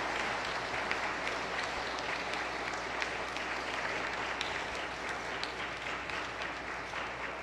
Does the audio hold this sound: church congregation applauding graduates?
yes